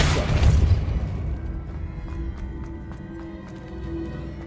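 In Hogwarts Legacy, the Depulso spell goes off as a loud, close booming blast that decays into a low rumble, with faint ticking and clatter of the game environment trailing after it.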